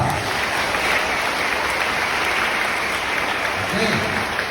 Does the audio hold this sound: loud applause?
yes